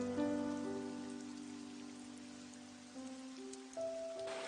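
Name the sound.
rain falling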